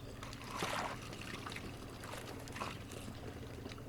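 Fresh wort from a Fresh3 fresh wort kit pours through a funnel into a fermenter, a steady trickling, gurgling stream with a couple of louder splashy surges, close and fairly quiet.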